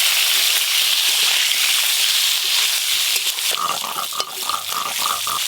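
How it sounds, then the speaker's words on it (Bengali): Cut, washed eggplant pieces with turmeric and salt frying in hot vetki fish oil, giving a steady close sizzle that turns into bubbly popping crackles near the end. "এবার কেটে ধুয়ে রাখা বেগুনগুলো ভেজে নেব।"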